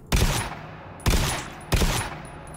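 Three loud, evenly spaced DMR rifle shots in the video game GTFO, each a sharp crack with a short decaying tail, close and alone.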